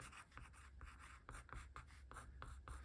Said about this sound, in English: So I will just write on the back